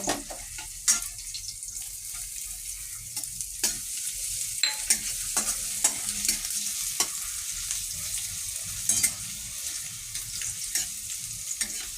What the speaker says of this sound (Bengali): তেলটা গরম হয়ে গেছে, এবার রসুন দিয়ে দেব। রসুন চপ দেবো, দিলাম। এরপরে আমি আদা দেব।